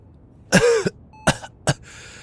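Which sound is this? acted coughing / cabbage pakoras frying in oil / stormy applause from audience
acted coughing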